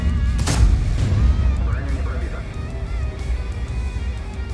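Heavy tank cannon fire in the online game World of Tanks, booming low and loud at the start and then rumbling on under continuous engine and battle noise.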